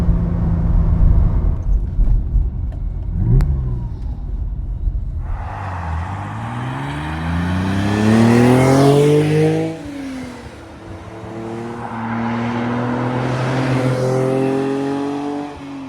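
A 1974 Ferrari 246 GTS Dino on a winding road pulls hard through its gears, each shift followed by a rising engine note, loud and close from inside the car, with no talking.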